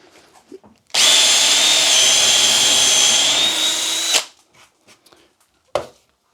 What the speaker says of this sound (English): What I'm going to do is just quickly drill a hole.